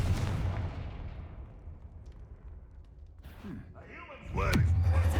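In Hogwarts Legacy, the Confringo fire spell hits with a loud burst and a whooshing, crackling blast near the end, following a quieter stretch of low game rumble and a brief swish.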